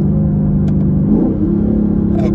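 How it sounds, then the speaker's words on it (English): A Lexus RC-F sports coupe engine rumbles loudly from inside the car through a series of downshifts, its steady drone lifting and settling in pitch as the revs change. "Check out the downshifts."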